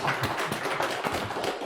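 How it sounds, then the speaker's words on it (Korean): A church congregation claps briefly at a Saturday service, a short burst of close, fairly quiet, dense applause with no talking. "박수 한번 쳐주시기 바랍니다."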